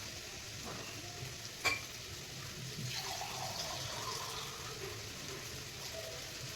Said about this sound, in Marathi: त्यामुळे थोडंसं पाणी टाकलं मस्त असं होऊ द्यायचं